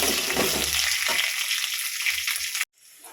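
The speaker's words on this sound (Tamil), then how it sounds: "இந்த வெள்ளைப்பூடையும் போட்டு வதக்குறேங்க" Garlic sautés in a pan for fish curry, a close, continuous sizzle that stops abruptly near the end, leaving quiet room tone.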